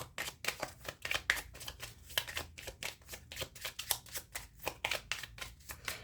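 A Lenormand (baralho cigano) card deck being shuffled, close and fairly soft, with a steady run of quick riffling bursts and card slaps repeating about twice a second, with no voices.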